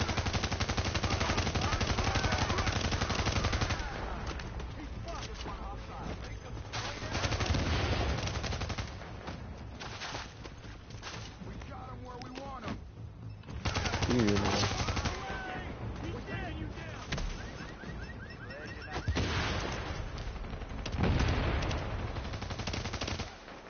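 Bursts of gunfire ring out in The Division during a firefight with hostile forces, loud rapid volleys and machine-gun chatter that start, pause and return. A voice talks over parts of the shooting.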